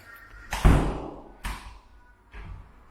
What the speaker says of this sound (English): Making sure the door's closed